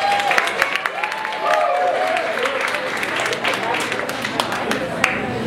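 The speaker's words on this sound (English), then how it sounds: "Y'all should clap for my wife" A comedy club audience claps and cheers for a comedian's wife in the crowd. The applause is moderate and scattered, with sharp individual claps above a murmuring room.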